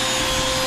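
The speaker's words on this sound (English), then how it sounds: "and I just use shop vac. Works very well." A shop vac set aside for dust extraction runs steadily as a loud, constant whine and roar, alone and close, with no breaks.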